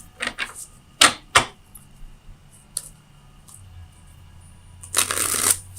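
Tarot cards being shuffled: several quick riffling bursts and taps early on, a few isolated clicks, then a longer dense riffle near the end, close and crisp over a quiet room hum.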